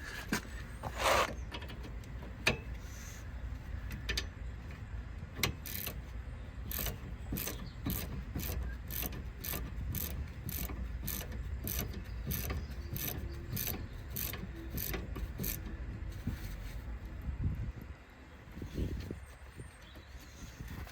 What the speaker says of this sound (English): hold it, and then tightening this bolt all the way down